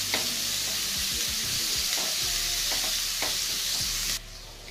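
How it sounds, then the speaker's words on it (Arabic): Finely chopped medium onion frying in a pan until golden, a steady loud sizzle with intermittent scraping stir strokes, close up and alone without talk, the hiss dropping slightly near the end. "عندي البصلايه المتوسطه مقطعاها صغير جدا، وابتدي اديها لون ذهبي كده شويه"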